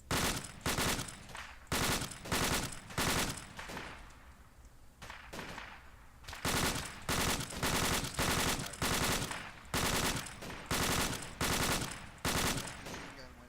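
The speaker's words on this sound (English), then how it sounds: "Machine gun when it's opening up" Arma 2 light machine gun fire in a forest firefight: repeated long, loud bursts of rapid automatic shots with short pauses between, and a quieter stretch midway.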